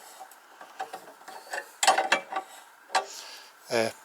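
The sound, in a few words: adjusting tensioning bar on homemade sheet metal brake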